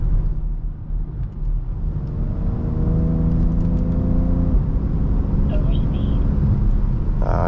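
A lifted BMW M3 engine held around half throttle gives a loud, steady drone with a rising whine, heard from inside the car with road rumble and some talk underneath.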